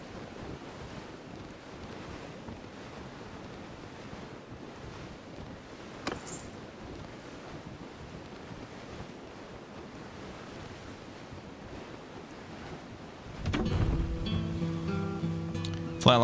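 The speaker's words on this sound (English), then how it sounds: "Sail around for a moment." Sailing ship on open sea waves in Mount & Blade II: Bannerlord, a steady wash of surf and wind noise, with a louder burst of water and game sound near the end.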